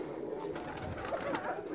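Pigeon cooing from a female of a Pakistani fancy breed, soft and close, with low murmuring coos repeating across a steady background hiss.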